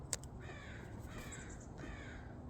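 A crow with avian pox caws a few times outdoors, the calls thin and somewhat distant over faint background hiss, with no one speaking.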